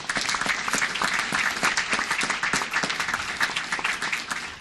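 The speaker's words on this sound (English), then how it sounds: "Let's give them a round of applause as they come." Audience applause at a city council meeting as members of a university fraternity chapter come forward, steady dense clapping from many hands filling the room, sustained and fairly loud with no talk over it.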